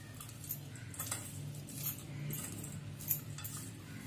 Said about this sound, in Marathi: आता छान मिक्स करून घेऊया